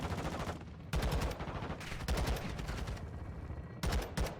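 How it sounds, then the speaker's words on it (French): Rapid gunfire bursts from Call of Duty Modern Warfare 2 campaign play, several loud automatic volleys separated by short gaps, dense and close throughout. "Et qui me tire dessus?"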